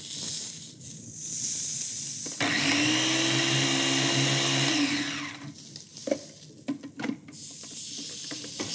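An electric food chopper whirs loudly for about two seconds with a steady motor hum, followed by clicks and handling knocks of the appliance.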